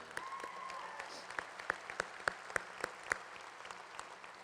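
An audience at an ArtCenter graduation ceremony applauds, a fairly faint, steady wash of clapping in a large hall with a few sharper individual claps standing out.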